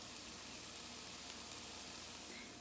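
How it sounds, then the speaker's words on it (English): Shrimp frying in a pan for a home lunch, a steady, dense sizzle that holds evenly from start to finish with no talking. "I am just making some shrimp."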